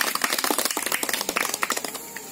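Children clapping their hands in a quick, uneven patter of many sharp claps, close and fairly loud, tapering off toward the end.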